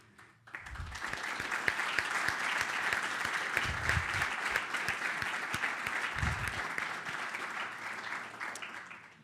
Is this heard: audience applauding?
yes